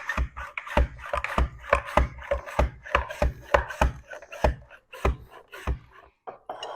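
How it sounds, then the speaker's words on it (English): A red onion is sliced thin on a mandoline: steady, rapid rasping strokes of the blade, each a crisp scrape in a regular rhythm, heard close and clear with no talking. "I'd like this to be thinly sliced as well, so I'm going to continue with the mandolin."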